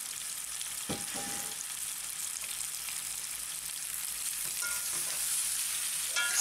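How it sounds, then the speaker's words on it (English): Star fruit stir-fried in a pan with garlic and hot peppers, an even hiss of sizzling with a couple of sharp spatula clinks near the start and light stirring scrapes later, steady and close. "stir fry the starfruit."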